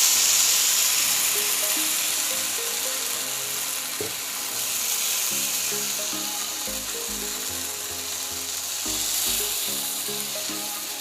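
Green moong batter sizzles in oil on a griddle as a dhirde fries. A steady close hiss holds throughout, with a faint rising and falling hum beneath it.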